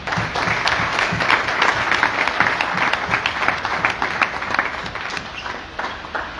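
An audience applauds after a presidential speech to cabinet ministers in Sierra Leone. The clapping is loud, dense and sustained, easing slightly toward the end.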